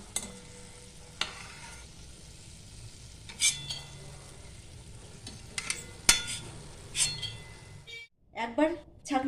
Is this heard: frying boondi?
yes